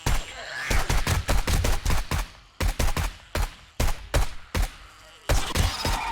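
Gunfire in the zombie survival game 7 Days to Die: loud, close bursts of rapid shots in short volleys separated by brief pauses, with a few single blasts near the end.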